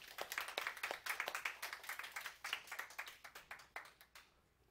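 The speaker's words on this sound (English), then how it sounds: "give them a round of applause" A small audience claps for the track builders at a Raspberry Pi with Java 9 talk, a brief burst of dense hand claps near and moderately loud that tapers off toward the end.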